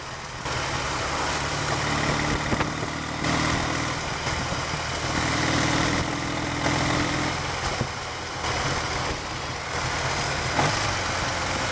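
A Triumph Tiger 100 motorcycle engine running steadily on a short test ride, a close continuous rumble that rises and falls slightly with the throttle, with no talking.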